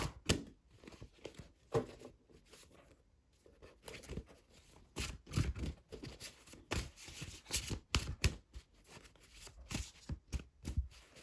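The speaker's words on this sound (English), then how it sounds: "I'm going to shuffle the cards." Repeated crisp riffling bursts of cards being shuffled, close and fairly quiet, with short pauses between shuffles.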